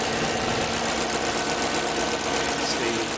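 An Audi A8 with a 3.7 engine converted to LPG idles on gas, giving a smooth, steady mechanical hum with a fine rapid pulse, close by and constant throughout.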